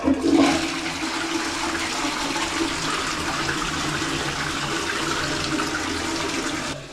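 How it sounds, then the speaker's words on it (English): A toilet in a camper van in Japan flushes with a loud rush of water that starts abruptly, pours steadily for several seconds, then cuts off, heard up close in a small bathroom. "So this is the toilet. This is how you flush it."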